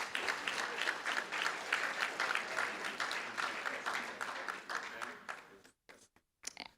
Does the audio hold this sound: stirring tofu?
no